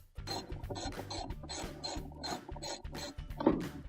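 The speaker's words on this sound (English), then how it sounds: "there's a bolt holding this down, which we'll take out next" A ratchet wrench clicks rapidly in short bursts while removing a bolt from a washing machine agitator. The pawl sounds close and fairly quiet, with a regular ratcheting rhythm and brief pauses between strokes.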